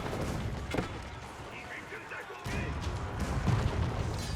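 Cannons fire during an Age of Empires 4 battle between Chinese and Byzantine armies, with scattered booms and crashes over a constant din of combat.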